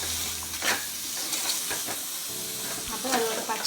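Country chicken gravy masala being stirred in a hot pan, a continuous sizzle and hiss with a few scraping strokes of a spoon, close and fairly loud.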